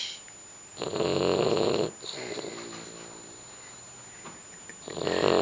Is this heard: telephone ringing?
no